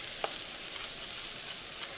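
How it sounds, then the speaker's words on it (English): Chicken browns and sears in a hot frying pan for coq au vin, a steady close sizzle with faint spatters and pops and no voices. "the browning sort of sears them, gives them lots of flavor"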